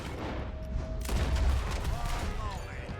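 Gunfire in a video game, a burst of shots around the middle over a steady rumbling game soundscape, fairly loud and dense for a few seconds.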